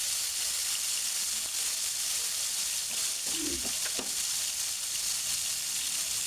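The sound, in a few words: chicken pieces frying in soybean oil in a pan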